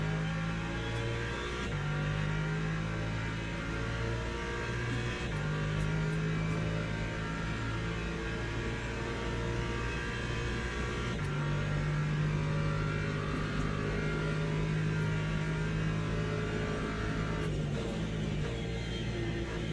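Hypercar engines racing in the game Le Mans Ultimate, a steady loud droning engine note with rising and falling revs through gear changes, continuous for the whole stretch.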